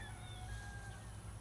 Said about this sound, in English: Hear those roosters in the background.